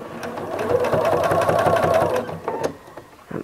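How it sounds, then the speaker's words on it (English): A sewing machine stitches a fabric appliqué pot holder, its needle running in a fast steady mechanical whirr for about two seconds before slowing and stopping, close and clear with no talk. "You lift up that presser foot and let your fabric fold just a little bit and begin stitching down to the next corner."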